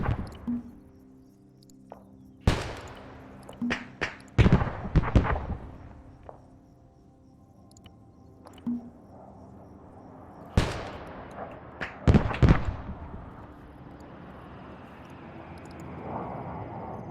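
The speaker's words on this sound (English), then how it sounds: "They did just fire that gun." Mortar and gun fire in a military video game: a string of sharp, separate booms and cracks spaced a second or more apart, some with long rumbling tails, loud against a quiet low hum.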